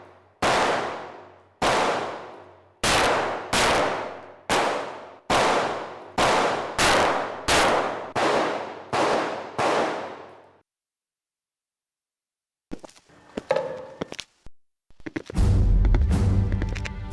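Gunshots ring out at target practice, about ten sharp loud reports fired in steady succession, each with a ringing decay, followed by silence and then some scattered clatter and noise.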